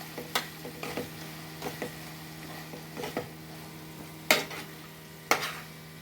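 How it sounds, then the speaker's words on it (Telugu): Cauliflower cooks in a pan for pakodi, a low steady simmer under scattered stirring scrapes and a couple of sharper metallic clinks of utensil against pan, with no voices. "ఇది క్యాలీఫ్లవర్ పక్కన ఉడుకుతుంది."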